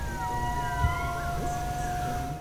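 Indri lemur calling in a Madagascar rainforest, long sustained wailing tones gliding up and down and overlapping, carrying steadily through the whole stretch over a low background rumble.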